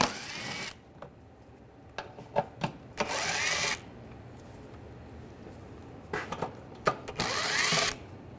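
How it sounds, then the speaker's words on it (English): A power tool with an 8mm socket spins screws out of the underbody shield on a 2009-2010 BMW 535i xDrive, with short whirring bursts separated by pauses and small clicks, close and fairly quiet. "Take these screws out."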